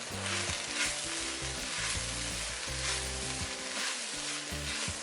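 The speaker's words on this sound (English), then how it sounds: "I'm going to go ahead and add the cauliflower to this mixture" Cauliflower sizzles as it cooks in a pan with a flavourful mixture during plant-based meal prep, a steady close frying crackle over a low tonal hum, with no talking.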